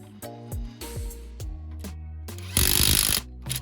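A Makita power gun tightens a bolt during a Metro car rebuild, giving short mechanical ratcheting bursts and one louder, harsh whirr near the end, with no talking.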